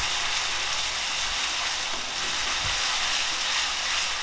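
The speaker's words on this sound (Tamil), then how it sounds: "இஞ்சி பூண்டு பேஸ்ட்டு சேர்த்ததுக்கப்புறம் இதோட பச்சை வாசம் போகிற அளவுக்கு நல்லா வதக்கி விட்டுடலாம்" Ginger garlic paste sautés in a hot pan for chicken thokku with a continuous, loud sizzling hiss. The sizzle stays steady and unbroken from start to finish, with no voices.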